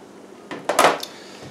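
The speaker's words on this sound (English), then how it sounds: "Stir it around a little bit here and there." Frozen vegetables stirred in a pan for a Chinese-style meal, a few close clattering scrapes of utensil against pan bunched in the middle, with a brief rattle after and quiet before and between.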